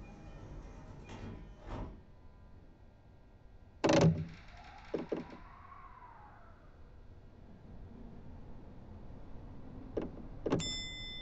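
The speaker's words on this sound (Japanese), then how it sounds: "ドアが閉まります。" Doors of a JR East E233 Chuo Line train close with a sharp thump and brief chime, followed by a fading pneumatic hiss and later a few more clunks in a quiet carriage.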